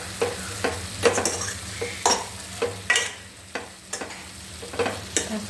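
Kimchi being stirred in a hot pan, a spatula scraping and clacking in a steady rhythm of about two strokes per second over a soft background sizzle, close and clear.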